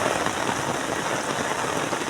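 Heavy rain pours steadily at the Marikina River during a storm, a dense, constant hiss of drops striking surfaces nearby with no voices heard.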